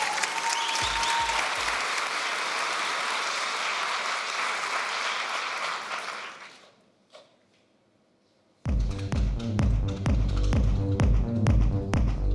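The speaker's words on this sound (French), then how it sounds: "on les applaudit bien fort!" Audience at a student theatre evening at a Cergy university giving a long, steady round of applause that fades to near silence, followed by loud music with a thumping beat.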